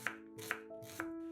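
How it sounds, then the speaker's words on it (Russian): An onion is diced into small cubes with a knife on a board, four crisp, evenly spaced chops in a slow rhythm, close and clear, with a faint tonal hum behind them. "1 луковицу нарезаем небольшими кубиками."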